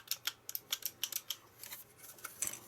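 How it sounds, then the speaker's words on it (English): Arcade joystick microswitches are pressed into place, producing a series of crisp, close clicks in irregular quick succession, faint overall and with no talking. "these just push straight in, but these are nice clicky switches"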